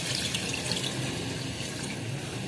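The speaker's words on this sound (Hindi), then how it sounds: "तकरीबन जो है हम 1 बड़ा कप पानी डाल रहे" A large cup of water is poured into a pot of lobia keema with meat, a continuous splashing, trickling stream that holds steady throughout, close and fairly loud.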